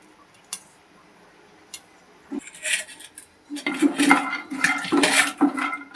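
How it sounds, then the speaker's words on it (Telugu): Pounded seeds are fried in a pan for a red ponnaganti leaf tempering, with sparse clinks at first, then busy metallic scraping and clattering of a spatula against the pan, close and fairly loud. "వేయించుకోవాలి బాగా"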